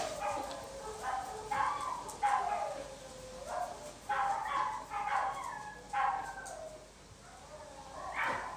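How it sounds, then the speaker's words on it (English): Several dogs bark and yip in overlapping bursts throughout, fairly close and loud, with a whining, rising-and-falling character to some calls. "There are many dogs."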